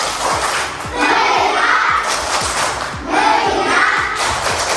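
A school class performs the 'tepuk fokus' clapping chant, with rhythmic group hand claps and thumps set against children's voices chanting and shouting together in loud bursts.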